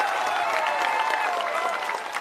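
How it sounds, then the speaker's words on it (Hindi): Dense, steady applause from a large crowd at an outdoor political rally in Bihar, loud and continuous throughout with a faint voice line running underneath, easing slightly toward the end. "बजा लो ताली जोर से।"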